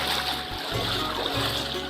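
Floodwater washes and splashes steadily across a fully submerged Kerala road lined with drowned shops, a continuous loud rushing churn with brief dips in the low rumble.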